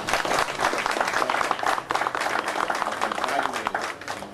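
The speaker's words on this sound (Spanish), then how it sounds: "darle un aplauso" An audience applauds steadily at an official agreement-signing event with a Miami mayor, dense, continuous clapping that is close and fairly loud throughout.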